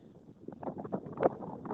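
Gusty wind buffets the microphone outdoors on a ridge above a brickworks site, rumbling in uneven bursts that swell near the end, with no talking.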